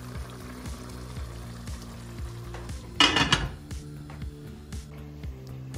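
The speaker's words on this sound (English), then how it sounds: "She says she's cooking some chicken" Chicken frying in a pot on a home stove in Paris, a burst of loud sizzling rising for about half a second amid low steady kitchen hum and faint clinks.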